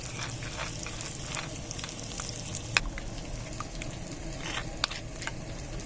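Onions frying in a pan for dahi bhindi masala, a steady crackling sizzle with scattered pops and small clicks, close and unbroken, with no talking.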